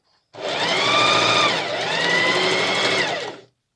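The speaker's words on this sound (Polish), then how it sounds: "kończymy nasze szycie na tym nacineczku" A sewing machine stitches disposable hospital shoe covers in one steady, loud, close run of about three seconds, with a slight dip in pace midway before it stops.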